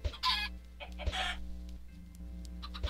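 Game chickens in ZEDSCraft cluck in short repeated bursts, fairly close and clear over a steady low background hum, with no talking.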